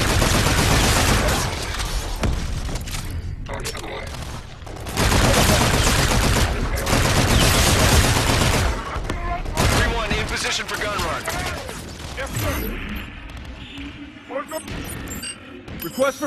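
Heavy gunfire in the video game Call of Duty: Infinite Warfare comes in loud, dense bursts and sustained volleys that swell and drop back, broken by brief lulls, while voices speak over the shooting.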